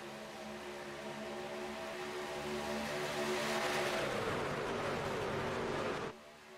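Truck engines roar together in an iRacing pulling-truck race at Talladega, a dense, steady pack drone that swells around the midpoint and then drops off abruptly near the end, with no one talking.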